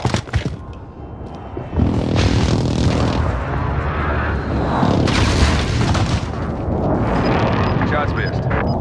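Airstrike explosions in Call of Duty, heavy booming blasts and rumbling thuds that hit after a short quiet start and keep rolling loudly for several seconds, with chaotic debris and crackle over a dense roar.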